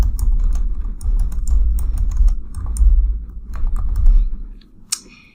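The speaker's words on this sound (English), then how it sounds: "So you get to type your question in here" Keys on a computer keyboard clatter quickly and close by while a question is typed, an irregular run of sharp clicks over a low background hum, ending with one louder tap.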